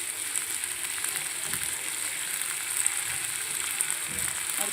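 Chopped ginger, garlic and green chillies fry in hot oil for restaurant-style chilli chicken, giving a steady, close, even sizzling hiss with occasional faint crackles and no talking.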